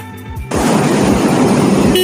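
The single horn of a Hero Xtreme 250R motorcycle blares loud and close as one sustained, steady honk after a short lead-in, with no voices.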